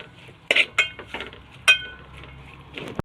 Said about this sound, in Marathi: चांगलं मिक्स करून घ्या.